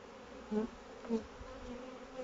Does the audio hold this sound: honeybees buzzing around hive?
yes